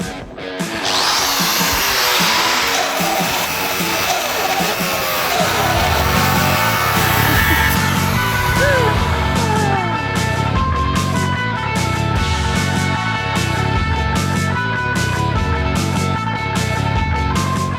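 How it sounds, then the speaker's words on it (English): A Robo cutting edge saw and a 9-inch angle grinder cut side by side, filling the clip with a loud, continuous high whine. A pulsing, rhythmic low drone runs under the cutting and strengthens in the second half. "I'm going to be taking on my little friend Robbie here, who will be using a 9-inch grinder"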